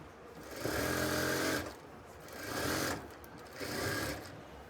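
A sewing machine stitches a kameez neckline in three bursts: a long run, a pause, then two shorter runs, each with a steady close mechanical whir.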